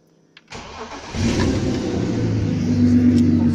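A BMW 330i E30 fitted with an M54B30 inline-six cranks briefly and catches, then settles into a loud, steady idle with a slight rise in revs, recorded close up with no talking.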